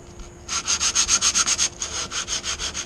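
Sandpaper of 220 grit scuffs painted hood panel in quick back-and-forth strokes, about a dozen even rasping passes close up, with a short pause partway through.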